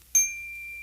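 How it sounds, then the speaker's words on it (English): A small hand bell gives a single bright ding that rings on cleanly and slowly fades, close and clear in a quiet room with no talk over it. "Whenever you hear that bell, turn the page."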